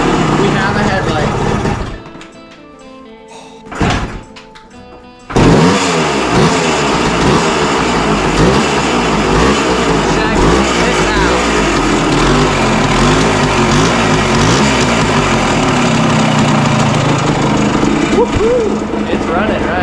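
A Yamaha motorcycle engine runs loud and close with a steady buzzing drone and wavering revs. It starts after a short, quieter stretch broken by a few brief mechanical noises.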